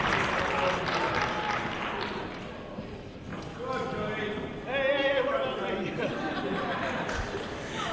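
Crowd noise rises and falls at a British Rounds wrestling match between James Mason and Johnny Kidd. A commentator talks over the murmuring audience, and a brief swell of cheering comes midway.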